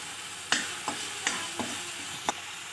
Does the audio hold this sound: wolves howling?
no